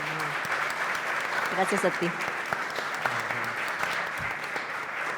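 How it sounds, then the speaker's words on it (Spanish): A summit audience applauds its financial panel, a steady wash of clapping held throughout, while a few voices speak briefly over it. "les pido por favor un aplauso para nuestro panel"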